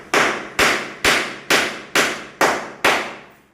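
Seven sharp, evenly spaced hammer blows drive a half-inch metal strip into a plywood furniture joint, each strike close and loud with a quick decaying ring.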